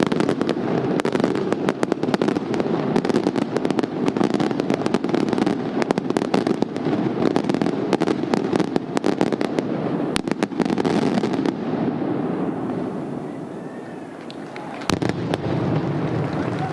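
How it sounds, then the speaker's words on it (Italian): Fireworks burst and crackle through a dense, continuous barrage at the Saint Agatha festival in Catania, sharp pops and bangs layered over a roaring crowd-like wash, thinning out near the end before one last loud report. "I fuochi d'artificio e le campane che suonano a festa"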